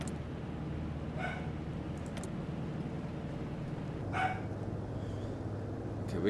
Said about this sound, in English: I wish the dog would stop barking.